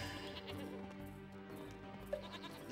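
Sheep bleating in the video game Nicktoons: Globs of Doom, a short wavering bleat over a steady bed of game music.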